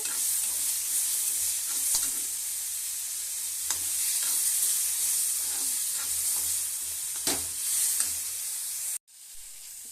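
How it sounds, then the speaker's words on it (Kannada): Green chillies and onions fry in oil in a pan for a chutney, a bright, steady sizzle with intermittent spatula scrapes that cuts off abruptly near the end. "ಮೆಣಸಿನ್ಕಾಯಿ ನೀರುಳ್ಳಿ ಎಲ್ಲ ಫ್ರೈ ಆಗಬೇಕು"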